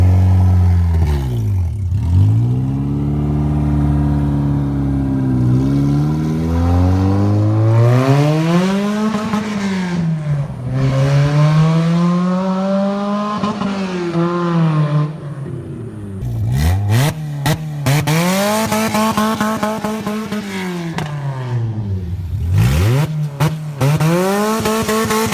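A K-swapped Honda CRX drag car revs hard and accelerates, climbing through repeated gear sweeps with loud, rising engine pitch. There is some tire noise, and the car lifts off briefly between pulls. It is close and loud, with no talk.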